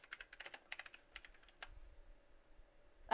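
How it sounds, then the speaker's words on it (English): Keys clatter on a computer keyboard during an online tabletop game session, quick bursts of close clicks for about a second and a half, then a quieter lull before a brief louder sound at the end. "I can hear your keyboard there."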